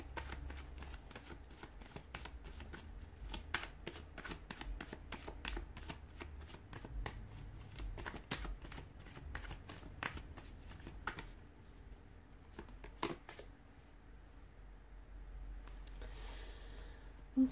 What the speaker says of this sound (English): give the cards a shuffle, and let's take a look